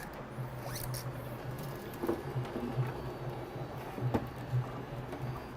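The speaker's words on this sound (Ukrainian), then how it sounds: "Як тільки вставляємо, принтер автоматично затягує філамент всередину." A 3D printer's AMS automatically pulling a filament spool inside, a faint, close mechanical pattering and whirring with soft clicks and brief squeaks over a few seconds.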